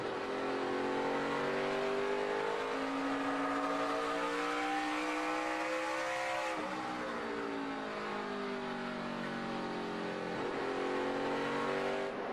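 NASCAR race cars at Richmond during the 2012 Virginia 529 College Savings 250, with engines roaring loudly and steadily, pitch rising and falling as the cars accelerate and pass.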